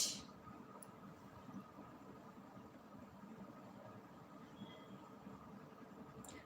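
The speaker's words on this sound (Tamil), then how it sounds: "train is coming" A train rumbles past at a distance, a low, steady roar that stays even throughout with no voices.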